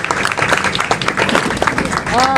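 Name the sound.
audience applause at a ceremony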